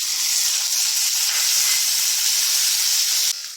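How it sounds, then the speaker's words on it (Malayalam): Shallots frying in hot coconut oil for a Kerala kudampuli chammanthi, a steady, loud, close hiss and sizzle that holds evenly before dropping slightly at the very end. "ഇതോടുകൂടി നമുക്ക് ഇതിലേക്ക് ചുവന്നുള്ളി ഒന്ന് വറുത്ത് പോരാം."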